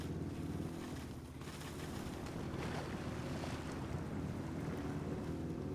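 A Razorr truck in SnowRunner drives through a washed-out river, giving a steady, fairly quiet rush of churning water and wind-like noise over a low engine drone, with no talk.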